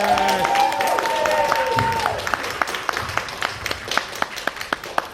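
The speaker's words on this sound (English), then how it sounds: "Please give him a round of applause." An audience at a school theatre production of a play breaks into applause, a dense wash of clapping that starts after a brief sustained tone and thins into scattered, distinct claps toward the end.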